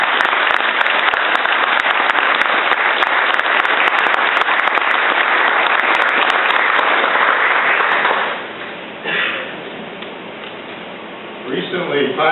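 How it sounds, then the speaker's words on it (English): A large audience applauds sailors at a ceremonial event, with dense, sustained clapping that fades after about eight seconds and gives way to quieter sounds and faint scattered claps. "Let's give them a big round of applause."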